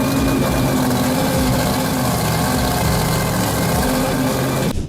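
A 1930 Bentley fitted with a 42-liter Packard V-12 aircraft engine running, a loud, dense, steady mechanical roar with layered low and mid rumble, sustained throughout before cutting off abruptly at the end.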